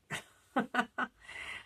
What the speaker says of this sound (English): And I apologize, that's my dog.